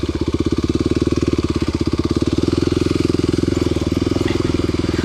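A Kawasaki KLX250sf single-cylinder motorcycle runs loud and close, its engine thumping in a rapid even pulse that rises slightly in pace partway through, without talking.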